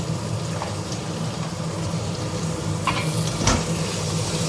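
Tomatoes, almonds and cashew nuts sizzle loudly in a pan for butter chicken, a dense, close frying hiss with a couple of brief scraping clinks from stirring and no speech.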